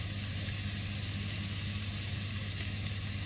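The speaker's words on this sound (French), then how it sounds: "Je vais faire revenir l'oignon et l'échalote." Onion and shallot frying in a pan, with a steady, quiet sizzle and crackle that carries on evenly with no talk.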